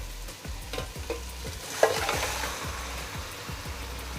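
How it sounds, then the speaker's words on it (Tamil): Chicken pieces stirred into a masala in a frying pan for chicken dum biryani, with a steady sizzle under repeated scraping strokes of the spoon and one sharper clack midway, close and continuous. "நல்லா மிக்ஸ் பண்ணதுக்கப்புறம் நம்ம எடுத்து வச்சுருக்க சிக்கன் போட்டுக்கலாம்"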